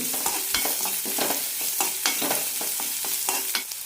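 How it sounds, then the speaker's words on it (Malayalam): Sliced onions sautéing in a pan for onion chutney give a steady close sizzle, broken by repeated sharp spatula scrapes and taps at an uneven rhythm, with no voices. "സവാള ചെറുതായി ഒന്ന് വഴന്ന് കിട്ടിയാൽ മതി"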